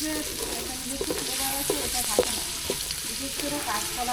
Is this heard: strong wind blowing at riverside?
no